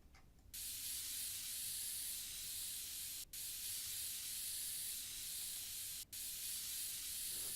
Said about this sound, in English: I'm basically waiting for the clean out dust thing to go green